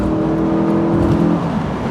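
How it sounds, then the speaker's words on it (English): A Honda S2000's high-revving, low-torque engine revs hard, a loud, steady buzzing drone rich in harmonics that holds strong before easing slightly near the end. "it is amazing how good this engine sounds"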